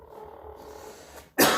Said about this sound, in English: he really doesn't like it when I give a little cough like that